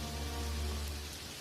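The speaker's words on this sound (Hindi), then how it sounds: "थोड़ी बारिश भी हो जाती है" Steady rain falls on a farm field, a dense continuous hiss of drops with a low rumbling undertone, even and unbroken throughout.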